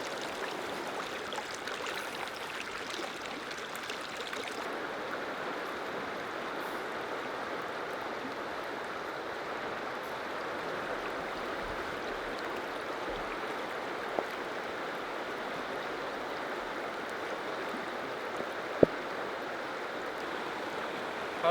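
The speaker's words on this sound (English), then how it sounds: "The water's moving pretty good." Fast-moving water of Spring Creek in the Allegheny region rushes in a steady, continuous wash, close and even throughout, with a couple of brief clicks late on.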